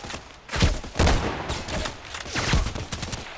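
Video game gunfire rattles in a dense, continuous volley of loud overlapping shots with heavy low thuds, with no pause across the whole stretch.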